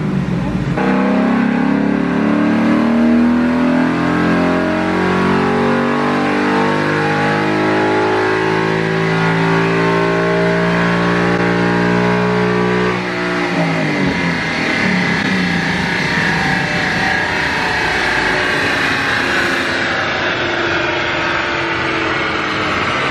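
2021 Ford Mustang Mach 1 V8 on a dyno's rollers during a full pull, a loud engine climbing steadily through the gears with rising pitch, then easing off into a rough lower drone near the end.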